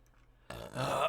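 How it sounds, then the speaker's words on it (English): A single loud, close burp follows a moment of quiet and rises into a rough, gurgling belch lasting about half a second. "Big old burp."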